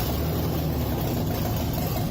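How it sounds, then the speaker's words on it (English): A rebuilt Ford 302 V8 runs on starting fluid in a brief, loud, rough and continuous engine roar, recorded close up with no voices. "here's the first start with some starting fluid"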